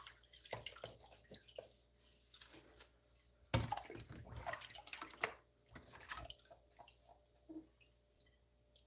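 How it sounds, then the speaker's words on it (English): A 70-year-old Currier and Ives lamp being washed by hand in water, with intermittent drips, splashes and sloshing, one louder splash near the middle, fairly quiet and close. "After I'm done washing a 70-year-old lamp."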